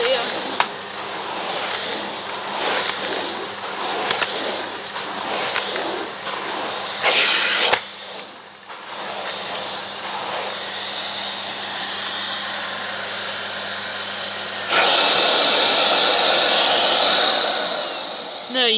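Miele C2 Compact Powerline vacuum cleaner running on its silent setting, a steady broadband whoosh that carries on throughout, briefly dropping around the middle before returning louder and brighter near the end.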